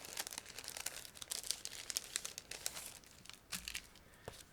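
A plastic bag holding decal sheets for a Beemax 1/24 BMW 320i model kit is handled and opened, giving close, quiet bursts of crinkling and rustling in an irregular rhythm.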